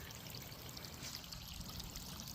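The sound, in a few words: water feature trickling into a small brook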